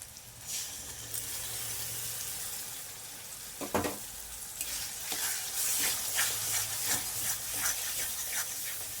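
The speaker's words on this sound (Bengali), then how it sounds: "ভালো করে কষিয়ে নেব মশলাটা" Spice mix of sour yogurt, cumin powder, coriander powder and meat masala frying in a pan for a lotte fish and potato curry. A close sizzle runs under uneven scraping stirs, with a brief clatter near the middle.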